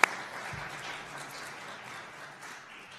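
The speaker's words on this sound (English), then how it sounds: "Could we please have a round of applause for all of our candidates who participated tonight?" An audience at a public school candidate forum applauds. The clapping is moderate and steady for about three seconds after a sharp opening hit, with no talk over it.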